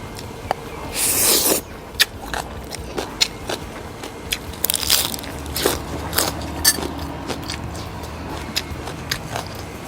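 Crunchy bites into fried fish eaten with papaya salad and rice noodles, sharp close-up crunches followed by intermittent chewing clicks and crackles.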